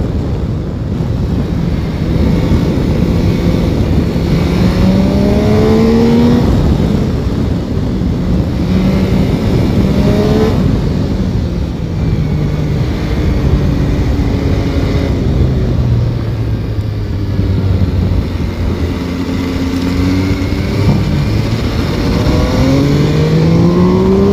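A 2021 MV Agusta Turismo Veloce 800 motorcycle engine accelerating hard through the gears, with rising and falling tones repeating under steady wind noise, loud and close throughout.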